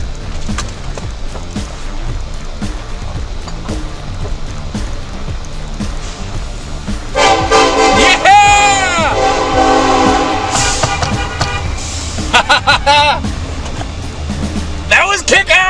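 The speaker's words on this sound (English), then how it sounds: "Do the honking thing." At a Tacoma truck meetup, a loud horn blasts in several long, wavering bursts with a sliding pitch over rumbling engine and crowd noise, and people shout and talk throughout.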